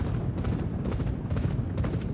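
Rhythmic, muffled hoofbeats of a galloping racehorse in the video game Champion Jockey: G1 Jockey & Gallop Racer drum steadily without pause, with no talking.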